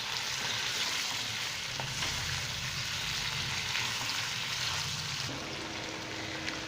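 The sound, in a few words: chicken frying with garlic in a pan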